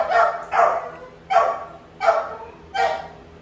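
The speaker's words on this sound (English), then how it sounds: "Some might be very, very, very, very, very vocal, like you hear Zeus in the back." A pit bull barking in the background, five spaced single barks at a steady rhythm, moderately near and clear, with no talking over them.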